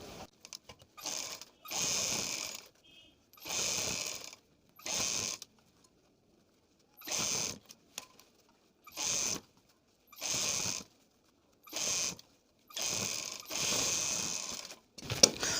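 A sewing machine stitching folded suit fabric over buckram, running in short repeated bursts separated by pauses, each burst a close, steady mechanical whir of moderate loudness, with no talking.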